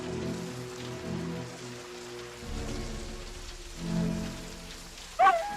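Rain falls on a wet day as a soft, even patter and hiss that swells slightly now and then, with a brief sharper knock near the end.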